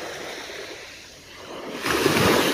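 Black Sea surf at a pebbly beach near Kabardinka, a steady wash of waves with some wind noise on the microphone, swelling louder as a larger wave breaks near the end.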